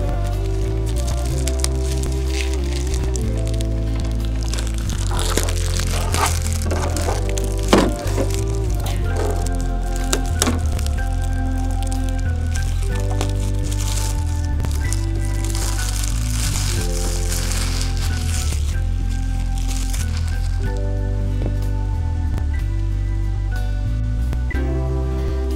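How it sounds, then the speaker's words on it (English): Wrapping being peeled and torn off a packaged Super Nintendo-style item, with continuous crinkling and crackling over a steady tonal background and a few sharper cracks along the way. "I'm going to unwrap it."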